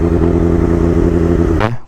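Heavy superbike engine revving hard in one gear, a loud, close, steady roar that holds its pitch and then cuts off abruptly near the end.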